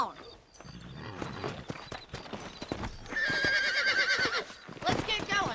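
Horses in the video game Red Dead Redemption clip-clop along with close hoofbeats, then one lets out a long, loud whinny, while people talk over the sounds.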